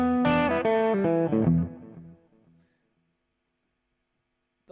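An old-style Epiphone Swingster electric guitar rings out a short bluesy phrase, with a few bright notes fading into a long decay and then silence, played alone.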